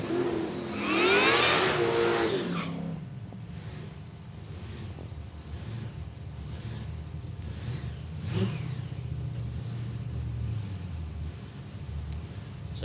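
A supercharged 1956 Chevrolet drag car at Palmyra Raceway in Australia revs hard in a loud burst near the start, then settles to a rumbling idle with a brief second blip partway through.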